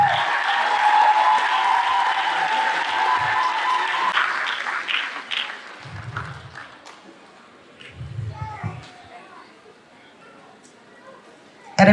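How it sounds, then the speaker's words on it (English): Applause at a skills academy graduation ceremony rises loud and dense for the first four seconds, then thins into scattered claps and crowd murmur, with people talking faintly over the fading clapping. "Please clap."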